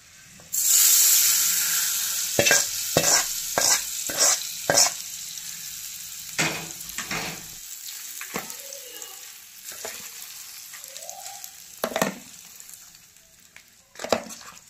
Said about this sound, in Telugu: ఇప్పుడు మనం పోపు ఇందులో వేసుకోవాలి